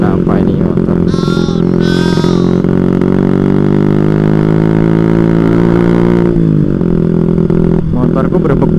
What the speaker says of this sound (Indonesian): Akan tapi ini mesinku kenapa ini kok berbek-berbek ini?